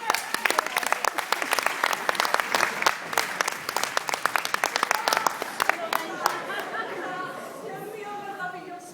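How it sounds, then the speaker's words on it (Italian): A theatre audience at an Italian stage show breaks into dense, loud clapping that rolls steadily for several seconds, then thins out as a performer's voice comes in over the fading applause. "Facciamo un bel applauso."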